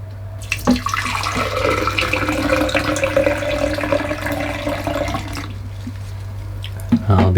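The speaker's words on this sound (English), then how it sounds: "I've got to fill it up with water" Water pours into a container, a steady splashing flow that runs for several seconds and then stops.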